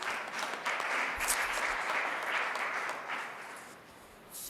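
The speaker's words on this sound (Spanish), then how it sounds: "Un aplauso, por favor." Applause from a church gathering audience fills the space for a few seconds, steady clapping that gradually thins toward the end.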